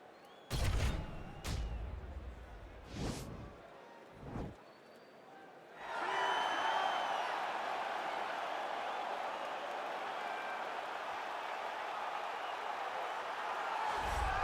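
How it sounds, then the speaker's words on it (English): A UFC arena crowd roars as Nate Diaz walks out for a welterweight fight, a sustained distant wall of cheering after several loud bursts of nearby talk at the start. "you hear the pop from the crowd"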